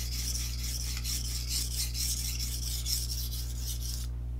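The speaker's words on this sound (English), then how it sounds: "I'm going to strip this burr off without using any sort of wood. I'm just going to run the knife. Some light strokes." Light strokes of a paring knife deburred by hand without a wood or felt block, a close, dry rasping scrape repeating in a steady rhythm over a low hum, stopping just before the end.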